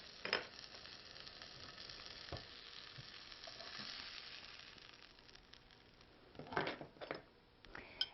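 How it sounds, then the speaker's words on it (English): Homemade sausage patty frying in a pan, a steady soft sizzle with a few sharper crackles and pops, close and alone without talk. "I'm going to make a patty of the sausage. I'm going to cook it and taste the flavor."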